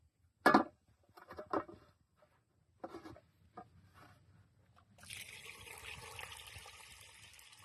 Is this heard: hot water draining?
yes